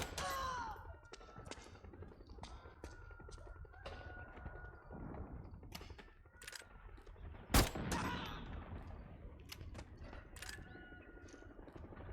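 Shots from an M14 EBR rifle in the video game Metal Gear Solid 4 crack out sporadically over quiet game ambience, with one much louder, sharper blast standing out in the middle.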